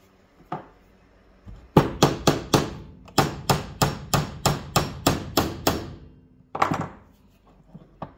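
A hammer drives a roll pin into a T56 clutch line fitting, striking in two bursts of sharp metallic taps, first a quick run of four, then a steady series of about ten, close and loud with no talking.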